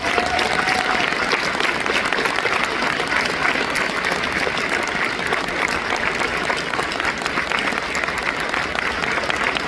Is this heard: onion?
no